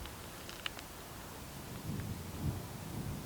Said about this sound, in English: some thunder in the distance